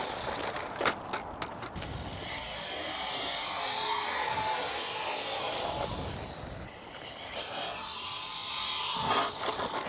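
A Carisma GT24ST micro RC truck drives over a bumpy, slippery surface, its small electric motor whining and buzzing steadily with rises and dips as the throttle changes, close by with no talking.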